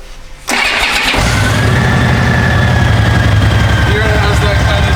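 A 2004 Honda Rune motorcycle with an 1800cc engine cranks and catches after a short quiet moment, then settles into a loud, steady idle with an even, throbbing low pulse, close by.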